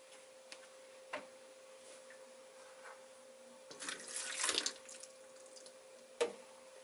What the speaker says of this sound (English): Rinses bedpan and pours rinse into toilet.